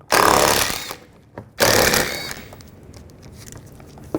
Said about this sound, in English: Take these bolts out. Right here, here, and here. There's 5. I'm going to use an 8mm socket.